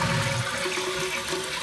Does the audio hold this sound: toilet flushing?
yes